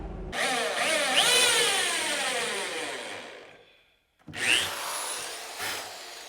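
A power drill whirs into wood in two bursts, its pitch sweeping as the bit bites, the first run long and fading, the second short.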